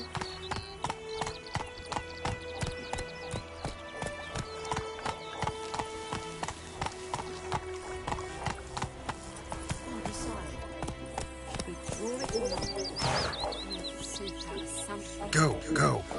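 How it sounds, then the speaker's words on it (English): Horse hooves clip-clopping in The Witcher 3: Wild Hunt, a quick, steady gallop of hoof beats with whinnies and game music, while a player talks over it. "yo cogí el caballo que era mío"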